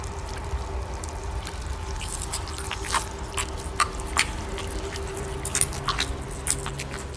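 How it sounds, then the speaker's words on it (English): A creature crunches bones with irregular wet, crackling bites over a constant low rumbling drone, the crunches sharp and close. "Oh, the crunching. That's bones being crunched."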